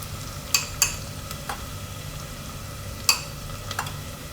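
Chopped onion cooks in a pan, giving a continuous soft sizzle broken by a few sharp clinks and scrapes of a spoon stirring against the metal.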